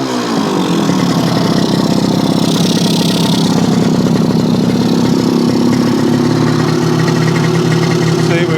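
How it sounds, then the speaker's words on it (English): A Yamaha 100 Trailmaster dirt bike engine idles steadily up close, a continuous loud putter with no revving. "It's idling better"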